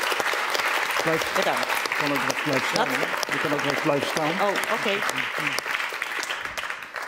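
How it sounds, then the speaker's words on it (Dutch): Steady applause from a seated audience at a Dutch talk-café evening, continuing loud throughout while someone speaks over it near the microphone. "Ik zou graag even een heel hartelijk applaus willen voor Fransje Snijders."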